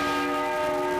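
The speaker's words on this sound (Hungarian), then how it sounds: "A nagy harang Őrbottyánban készült Gombos Lajos harangöntőmester műhelyében 1993-ban, ez 13 mázsás." A large 13-quintal church bell, cast in 1993, rings in Szombathely, Hungary, with a rich, sustained metallic tone and long humming overtones, loud and close.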